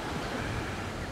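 Ocean surf washing onto a cold beach, a steady broadband wash of waves with some wind noise across the microphone, continuous and moderately loud with no talking.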